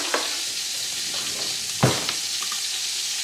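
Sausage and meatballs brown in a pot, a steady close sizzle with a few stirring scrapes and one louder clatter midway.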